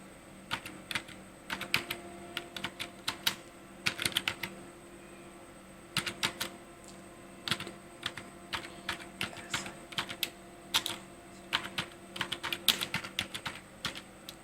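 Narration typed on a computer keyboard while entering a contra voucher in Tally Prime accounting software: bursts of rapid, close key clicks separated by short pauses, repeating steadily throughout.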